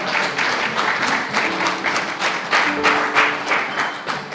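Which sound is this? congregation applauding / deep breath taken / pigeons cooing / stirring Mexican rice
congregation applauding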